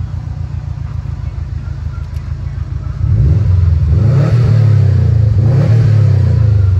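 A 2013 Subaru WRX AWD idles with a low, pulsing exhaust rumble, then revs up and holds higher, a loud, close engine with a deeper, rising drone from about halfway on.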